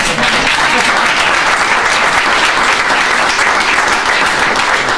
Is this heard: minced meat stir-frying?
no